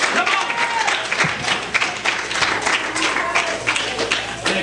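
Church congregation at a two-year anniversary service clapping and shouting steadily throughout, a dense wash of applause and raised voices with a preacher's voice mixed in.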